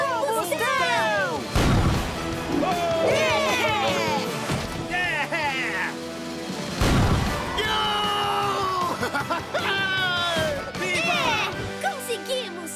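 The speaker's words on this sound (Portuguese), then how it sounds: "Hora de uma pequena explosão de... combustão!" Cartoon monster-truck combustion explosions burst out twice, short booming blasts set among excited shouting, whoops and lively music.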